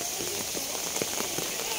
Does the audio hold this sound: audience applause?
no